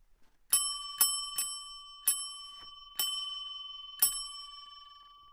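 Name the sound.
doorbell ringing at a boarding house door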